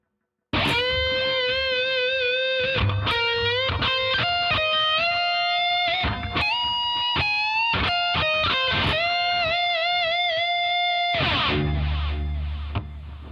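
A distorted electric guitar plays a lead phrase in G of sustained, bent notes and quick picked runs, loud and up close, ending in a noisy strum.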